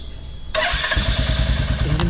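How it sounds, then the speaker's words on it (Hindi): Royal Enfield Hunter 350 motorcycle engine cranking and catching abruptly, then settling into a loud, close, steady thumping single-cylinder idle with no talking. "अब एक बार इंजन स्टार्ट करके दिखा देता हूँ।"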